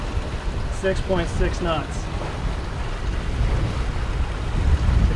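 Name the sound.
wind gusting while sailing on the Ottawa River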